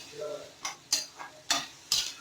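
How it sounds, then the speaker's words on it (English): A spoon stirs green peas into a potato masala frying with oil, mustard and urad dal, making five or six quick scraping strokes against the pan over a faint sizzle, close and distinct. "now she mixed the green peas in it"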